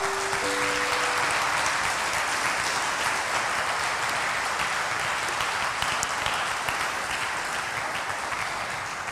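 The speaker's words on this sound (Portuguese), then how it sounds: "Pode aplaudir agora." A church congregation applauds during an online worship service, a thick, steady wash of many hands clapping that holds at an even level throughout, with a faint tone briefly audible near the start.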